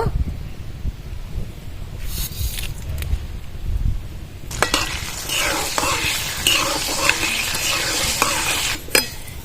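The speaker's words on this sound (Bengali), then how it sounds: "শুকনো লঙ্কা আর পাঁচ ফোড়ন নিয়েছি এবার ঢেলে দেব" Dried red chilies and panch phoron spices hitting hot mustard oil for a raw mango pickle tempering, starting with low clatter and stirring, then erupting into a loud, steady crackling sizzle that holds for several seconds.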